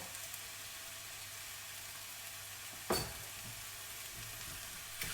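Food with a tablespoon of tomato puree sizzles steadily in a hot pan, a soft continuous frying hiss with one brief stirring scrape midway.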